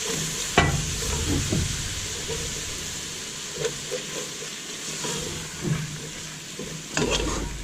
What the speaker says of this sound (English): Now I'm going to start to add the milk and stir while I add it.